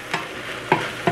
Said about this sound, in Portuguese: Aí a carne moída eu tô aqui refogando, ó. Fritando, na verdade,